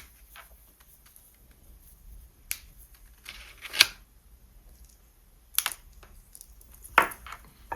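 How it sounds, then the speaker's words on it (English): Cutters snip wires from electric wheelchair battery terminals: four sharp, isolated clicks spaced a second or more apart, over quiet background with faint handling noise and no talking. "I'm going to simply cut these"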